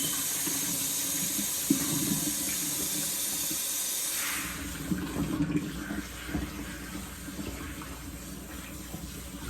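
A handheld water sprayer rinses scalp scrub out of beginner locs, a close, steady hiss of running water with splashing that gets softer and more broken about halfway through.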